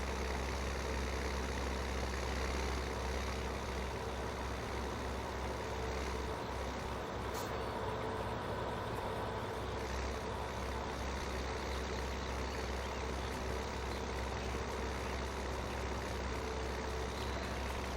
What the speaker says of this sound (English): This is not the fastest tractor.